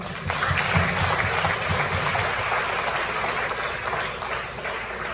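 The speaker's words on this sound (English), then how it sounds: "We need a clap for that." A crowd claps at a launch event for a new vision-care policy in Kailahun, Sierra Leone, a loud, dense burst of applause that holds steady before tapering slightly.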